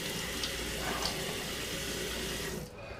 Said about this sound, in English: I'm going to rinse off with a little hot and a little cold